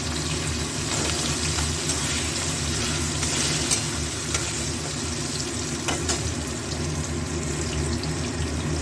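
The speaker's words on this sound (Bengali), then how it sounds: "সবগুলো একটু ভাজা ভাজা হোক।" Potato pieces and soaked Gobindobhog rice frying together in a pan, a dense, steady hiss of sizzling with a few sharp taps and scrapes from stirring, fairly close and with no talk.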